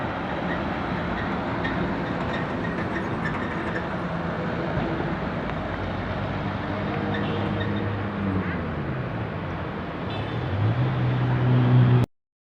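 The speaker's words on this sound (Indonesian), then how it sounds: "Bus Marlin yang saya tumpangi, bus Marlin tujuan Pendopo Pagar Alam." Steady rumbling drone of a medium-size non-air-conditioned Marlin economy bus ride from inside the cabin, with engine noise and road rattle continuing evenly and swelling louder near the end before cutting off.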